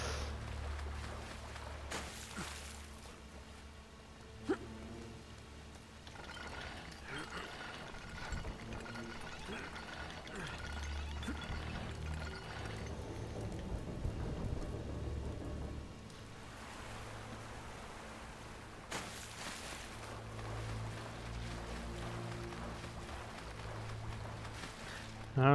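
Rushing water in the video game Uncharted: Drake's Deception, a steady, full wash of flowing water that runs loud and unbroken, with occasional mechanical clanks on top.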